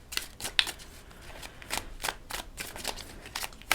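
Tarot cards are shuffled close by in a quiet room, with a series of soft riffling bursts and light card snaps, and no talk.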